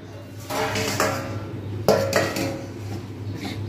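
A lid clanks down onto a cooking pan on a switched-off gas stove, giving a few short metallic clatters and a sharper knock near the middle, fairly close and without talk.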